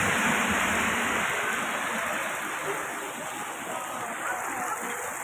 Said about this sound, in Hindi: मदीना मुनव्वरा में बारिश है माशाल्लाह।